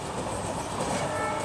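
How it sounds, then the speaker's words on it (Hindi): A small freight train carrying overhead line poles for railway electrification rolls past close by. It produces a loud, continuous rumble and hiss with no break. "OHE पोल्स वगैरह यहाँ पर इंस्टॉल होने हैं, उसी के लिए मालगाड़ी छोटी सी एक तैयार की गई है।"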